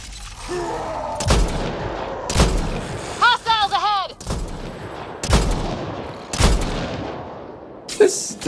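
Pistol gunfire in Mass Effect Andromeda: loud, sharp shots ring out one after another at irregular intervals, each with a quick echoing tail. Warbling alien insect cries sound between the shots, and someone talks.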